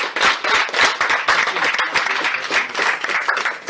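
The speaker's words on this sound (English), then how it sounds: "Give these guys a round of applause." An audience at a home event bursts into dense, sustained applause and clapping, close and lively for a few seconds, with a voice briefly audible beneath it.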